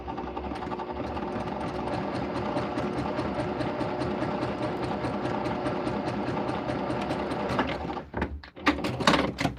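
A sewing machine stitches fabric strips together in a loud, fast, steady mechanical whir. It stops abruptly near the end, followed by a few knocks and rustles of handling.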